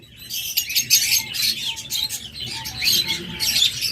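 Opaline parakeets chirp close by, a dense, shrill chatter of overlapping tweets that rises and falls without pause.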